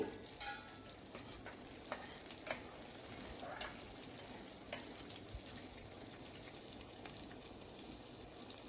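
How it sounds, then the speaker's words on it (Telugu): Mutton frying in oil with onions and green chilies, a steady close sizzle with scraping stirs and occasional clinks, no talking. "ఫస్ట్ మటన్ని ఆయిల్లో బాగా వేయించాలండి"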